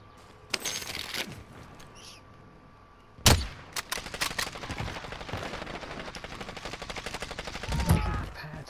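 Gunfire in Call of Duty Warzone cracks out as single shots and quick bursts, with one loud close blast and further rapid fire trailing after it, amid faint game ambience.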